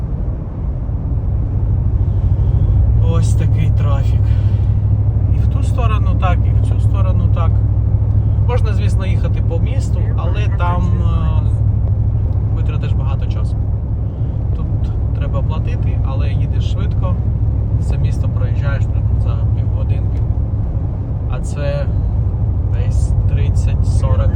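A car cruising at highway speed on a toll road in Orlando, a steady low road and engine rumble throughout with someone talking over it nearly the entire time.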